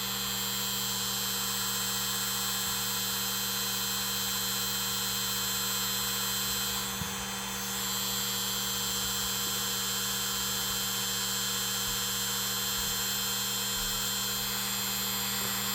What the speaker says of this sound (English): Sometimes the wire wheel don't want to make it down into those tight spaces